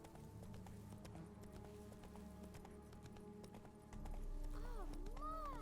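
Roach, Geralt's horse in The Witcher 3 video game, clops with steady hoofbeats over a low game ambience, then gives a rising whinny near the end, both at moderate, close range.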